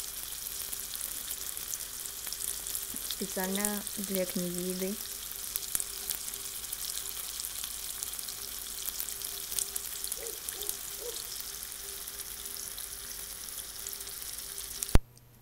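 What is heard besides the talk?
sausages frying in pan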